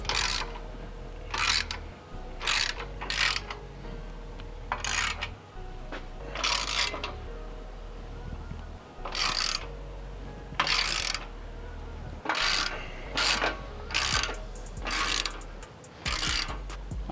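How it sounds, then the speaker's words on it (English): Ratcheting wrench tightening exhaust clamps during an AWE exhaust and mid pipe install on a BMW G87 M2, heard as bursts of rapid clicking that repeat with short pauses, close and fairly loud. "let's do a final tightening of some of these clamps"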